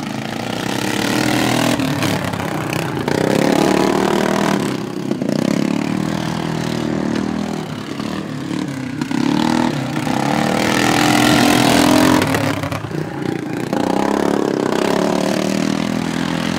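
Modified racing lawn mower engines of about 32 horsepower rev loudly and steadily at a dirt-track heat race, a continuous buzzing roar that swells and dips as the machines race side by side.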